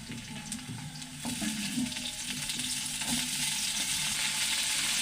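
Vegetables sizzle in hot oil with chopped onion and green chili, a dense, steady frying hiss that grows louder after a second or so, with a few soft stirring knocks and no voices.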